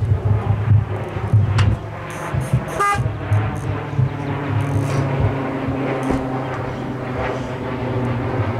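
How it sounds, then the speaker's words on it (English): A car horn honks amid steady vehicle and traffic noise, a short tonal toot standing out briefly over the low rumble before the noise carries on without talk. "Just give a honk of a horn when you have reached your destination."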